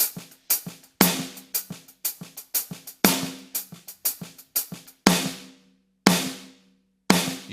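A drum kit plays a halftime shuffle, with a soft ghost note on the snare placed straight after beat three amid crisp cymbal and snare strokes. It is a steady, repeating close-miked pattern, heard alone without talk.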